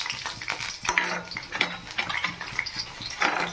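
Chopped onion stirred in a frying pan while cooking a snail dish, with scraping utensil strokes and clinks against the pan over a soft sizzle, close and moderately quiet.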